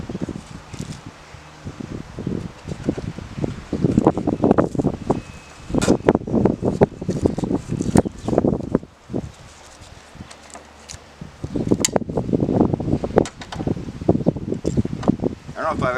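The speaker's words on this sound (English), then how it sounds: "You can see it's windy again." Strong wind gusts outdoors on a riding course buffet the microphone in loud, rushing bursts that rise and fade in waves, with brief calmer stretches between them.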